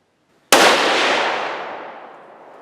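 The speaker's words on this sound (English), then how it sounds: "Cool bore shot, no suppressor." A rifle fires a single cold-bore shot with no suppressor, a sharp loud crack that rings out and decays over about two seconds after a brief silence.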